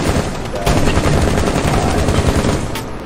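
Sustained automatic gunfire in Rainbow Six Siege: loud, dense bursts of shots fired nearly continuously for a few seconds, with faint voices underneath.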